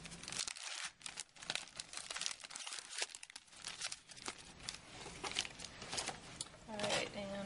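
A sealed iontophoresis electrode package, standard size, is peeled open up close with steady crinkling and tearing of the wrapper, while a person talks alongside.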